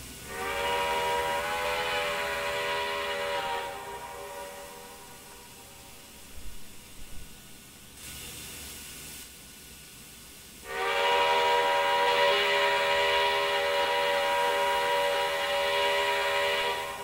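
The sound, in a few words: steam locomotive whistle, CN U1f 4-8-2, Trainz 2019 video game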